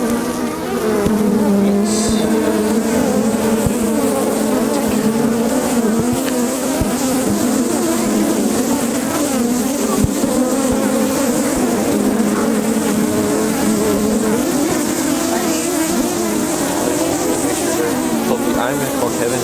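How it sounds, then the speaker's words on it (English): Honeybees around an open hive during a spring inspection, a dense continuous buzzing swarm close by, steady and loud throughout, with people talking quietly beneath it. "You have very healthy bees."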